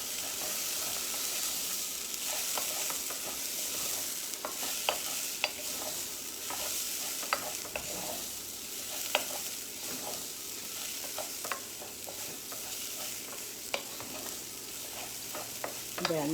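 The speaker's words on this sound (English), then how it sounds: "And I'm going to stir it." A shrimp and rice mixture seasoned with black pepper is stirred in a pan, giving a continuous soft sizzle with frequent spoon scrapes and clicks over a long stretch, with no talking.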